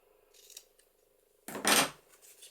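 Scissors trim the edges of a paper Christmas card with a single crisp cut close by, after a quiet stretch with faint handling sounds.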